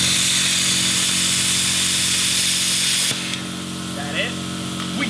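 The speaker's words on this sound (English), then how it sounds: "we're gonna use the plasma cutter to cut it loose" A plasma cutter cuts loose a tack weld on a 420cc mini bike frame, a loud steady hiss with a buzzing hum that cuts off abruptly after about three seconds, followed by quieter workshop noise and voices.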